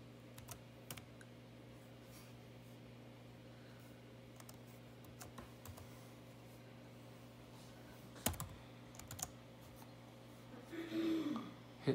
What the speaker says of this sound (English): Type that carefully right here, and it should work.